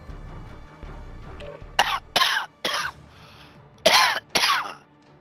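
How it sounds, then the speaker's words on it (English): A man coughs repeatedly in a gaming session, five or six harsh loud bursts in two clusters after a low murmur of background sound, close to the microphone. "You're coughing all over my legs."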